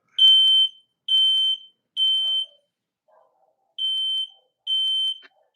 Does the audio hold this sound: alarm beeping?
yes